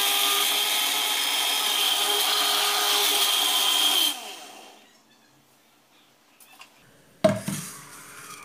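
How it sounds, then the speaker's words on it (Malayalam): A kitchen mixer grinder blends raw green mango into juice with a loud, steady whirring roar that cuts off about halfway. A quiet pause follows, then a short clatter as the jar is handled. "ഞാനിപ്പോൾ ഇതൊന്ന് മിക്സിയിൽ അടിച്ചെടുക്കട്ടെ"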